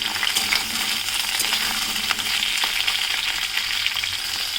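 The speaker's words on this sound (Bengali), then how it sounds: "এবার এখানে শিম, বেগুন আর আলুটা দিয়ে দেব। দিয়ে এটাকেও একটু ভাজা ভাজা করে নেব 2-3 মিনিট।" Flat beans, eggplant and potato frying in a pan, a dense continuous sizzle with scattered scraping and clinking of stirring, loud and close with no talk.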